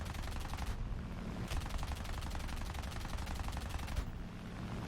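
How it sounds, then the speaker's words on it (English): A Fiat C.200 fighter fires its machine guns in a flight combat game. Rapid bursts of gunfire rattle over a constant engine roar, with a short burst first and then a longer sustained one. "I start firing, and this really just shows how scarce the armament really is on the C-200."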